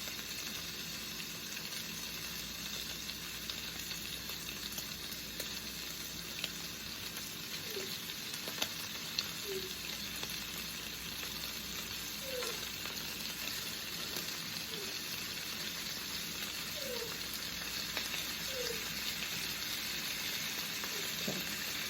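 Bacon, egg and cheese wraps sizzle steadily in a pan as the bacon crisps, a continuous even frying hiss with a few faint clinks, heard alone without talk.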